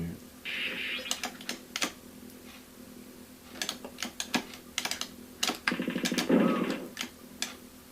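Computer keyboard typing during a retro game session, several short bursts of clicky keystrokes with pauses between them, fairly close and moderately loud over a faint steady hum.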